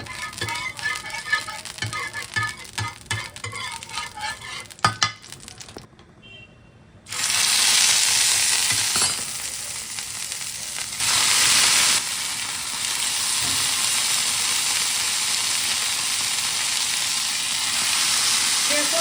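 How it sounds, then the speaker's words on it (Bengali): Leaves frying in mustard oil on a tawa griddle, a loud steady sizzle beginning after a brief clatter and running continuously close by, alone without talk. "তাওয়ার মধ্যে সর্ষের তেল দিয়ে দিয়েছি দিয়ে এবার একটু ভেজে নেব"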